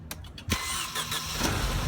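A 2003 Mercedes C230 engine cranks with a few short bursts, then catches and settles into a steady, close idle that runs to the end; no talking.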